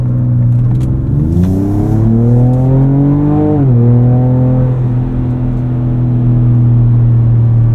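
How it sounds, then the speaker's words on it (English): A 2024 Ford Ranger Raptor's 10-speed automatic revs its engine up, then clearly drops pitch as it downshifts under braking, settling into a steady, close, loud engine drone with no talk. "downshift on braking."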